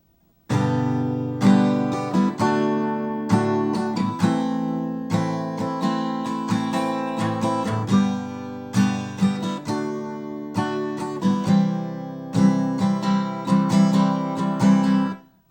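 Strummed guitar chords change in a steady rhythm, bar by bar, played alone at a moderate, even volume with clear attacks on each strum.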